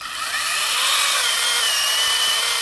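Makita cordless power tool running off a 20Ah backpack battery, cutting with a steady high-pitched whine that holds loud and continuous throughout, close by with no talking.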